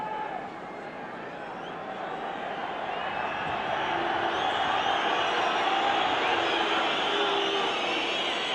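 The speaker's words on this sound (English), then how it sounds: "There's a reaction in the crowd." A football crowd at a European Cup Winners' Cup semi-final between Everton and Bayern Munich roars in a broad, swelling wash of cheering that builds in loudness, with a commentator's voice underneath.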